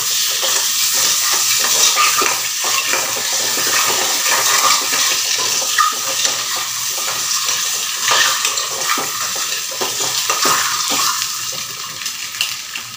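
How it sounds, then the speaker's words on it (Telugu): Eggs fry in hot oil in a pan for a Telugu-style egg curry, giving a steady, close sizzle that carries through the whole stretch with faint stirring scrapes and no talk. "ఎర్రగా వేస్తున్నాం గుడ్లు."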